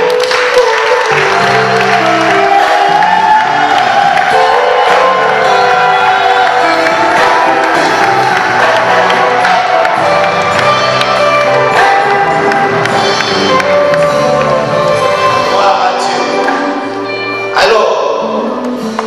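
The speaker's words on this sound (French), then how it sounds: "André Moïse, qui va s'avancer sur vos acclamations." A large crowd at a church consecration ceremony applauds and cheers continuously, with music and voices mixed in, staying loud throughout.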